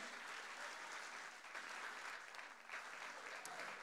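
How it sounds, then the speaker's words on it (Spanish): A church congregation at a Spanish-language sermon claps loudly and continuously, a thick wash of applause with slight swells, lasting a few seconds without speech. "Denle un aplauso fuerte al Señor."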